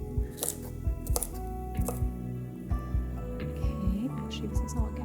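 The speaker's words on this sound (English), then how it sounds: "pound of fresh asparagus trimmed and chopped" Knife chopping fresh, trimmed asparagus into bite-sized pieces on a board, a quick run of close, irregular thuds and clicks while a person talks over it.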